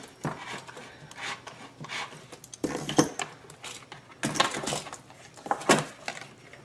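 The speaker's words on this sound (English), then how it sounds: "I'm going to use a repairman's reamer just to clean it up just a little bit" A hand-held repairman's reamer scraping and rasping as it enlarges a hole in metal for a Pulsar PGD40iSCO generator fuel kit fitting, several short grinding strokes in bursts with gaps between.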